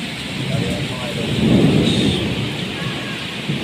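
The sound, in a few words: heavy rain and thunder in Jeddah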